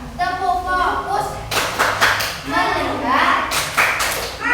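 Schoolchildren in an Indonesian classroom perform a rhythmic clapping routine, sharp claps in short bursts interleaved with their chanting voices, close and fairly loud.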